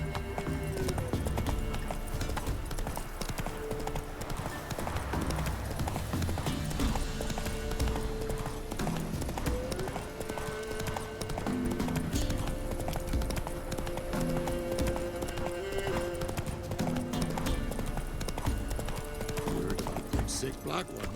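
Roach, the horse in The Witcher 3: Wild Hunt, gallops with steady rapid hoofbeats that run close and loud throughout, joined by game music and occasional voices.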